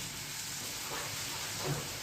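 Steady crackling sizzle of garlic chutney frying in hot oil for tempering, a continuous hiss with small pops, no talking.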